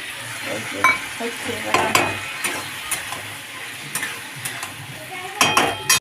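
Potato curry is stirred and fried in a pan with cumin, coriander, chilli and turmeric powders, with sizzling under repeated scraping strokes and clinks of the utensil against the pan, close and fairly loud, with no talking.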